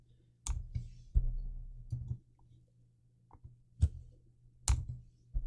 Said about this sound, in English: Okay, so I'm going to type in red.